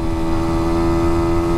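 A Sinnis SM-R 125 supermoto motorcycle engine held at full throttle on the road, a loud, steady, high-pitched drone with no break and no talking.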